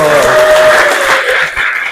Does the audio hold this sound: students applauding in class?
yes